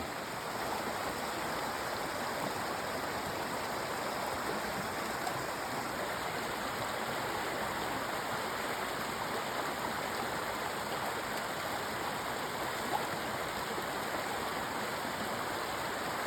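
A stream rushes steadily nearby at a hiking trail water crossing in the Smoky Mountains, a constant broadband wash of flowing water with no talking over it.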